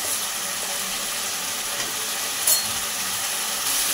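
Vegetables fried earlier in oil, potato and pointed gourd, tipped into spice paste in a pan for a rohu fish curry, giving a steady broad sizzle throughout with a brief sharper hiss partway through.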